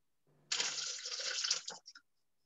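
Soda water is poured into a Thermomix for a cocktail, a bright fizzing gush lasting about a second and a half that ends in a few trailing splashes, close and clear with no talk.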